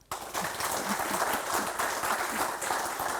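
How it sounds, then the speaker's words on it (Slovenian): Audience applause at the Slovenian Grand Security Award 2020 ceremony, a sustained wash of many hands clapping that starts abruptly and holds steady at moderate level. "ker lahko še aplavz"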